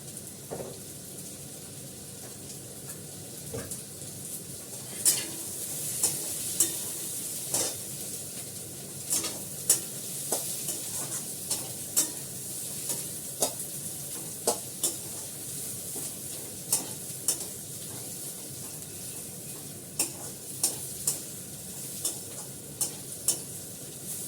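Chow mein with chopped green chilli, capsicum, carrot and onion sizzles steadily in a pan while a spatula scrapes and clanks against the metal in sharp irregular strikes, close and continuous with no talking.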